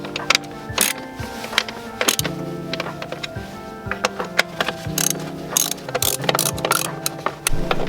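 A ratchet tightens bolts while the top mount intercooler goes back onto a 2022 Subaru WRX, giving repeated close, crisp clicking bursts mixed with metallic handling clatter.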